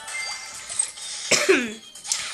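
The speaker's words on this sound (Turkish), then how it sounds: "Bu arada ben biraz hastayım. Öksürüyor olabilirim." A single harsh cough bursts out close to the microphone, with a second, fainter cough shortly after, over quiet background hiss.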